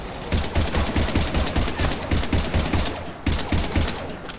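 Rapid automatic gunfire from the video game Mass Effect, dense bursts of shots repeating steadily and loudly with a brief gap near the end, no talking.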